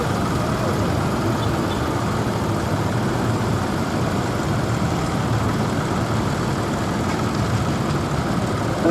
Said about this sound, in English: what that engine is in a tractor, well this is something that's been built for a specific purpose, and I would guess probably tractor pulling